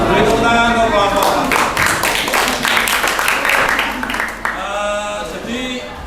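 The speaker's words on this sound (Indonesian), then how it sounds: "Tepuk tangan untuk kelompok." Classroom applause for a student group that has just finished presenting, scattered hand claps rising together across the room over several seconds while a voice speaks over it.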